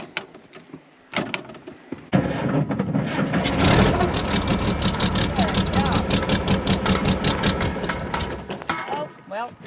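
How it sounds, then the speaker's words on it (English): An IH 1066 tractor engine cold starting on a touch of ether, beginning with brief cranking bursts, then catching into a loud, close, rough running roar that is revved, with a voice talking over it. "We're gonna give it just a touch of ether, so just like that, and we're gonna rev it up a little bit."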